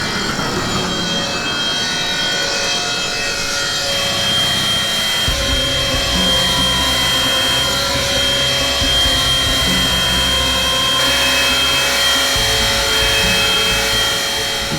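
Machinery at a marble factory cutting stone, a loud steady grinding whine with layered mechanical drone that runs without pause, shifting to a lower churning tone partway through.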